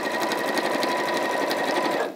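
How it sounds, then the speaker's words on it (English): A sewing machine runs steadily and continuously, stitching across the opening of a fabric tray liner, a close, even mechanical whir that stops abruptly at the end. "Just sewing over the opening"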